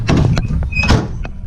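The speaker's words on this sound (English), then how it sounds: "Door closes and opens." Door of a 2004 Chevy Colorado LS Z71 pickup with a newly fitted tonneau cover shuts and opens in quick succession, a few close, solid thunks and clicks with a short latch rattle.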